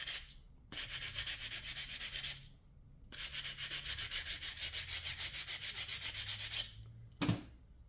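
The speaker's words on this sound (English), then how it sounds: "we just take our sandpaper on a sanding block" An 80-grit sandpaper on a sanding block rubbed back and forth over dented steel trim on a 1953 Chevy truck, with fast rhythmic rasping strokes in two long bursts separated by a short pause, close and alone.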